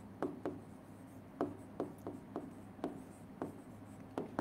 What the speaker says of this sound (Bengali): দেখো আমি একটু লিখি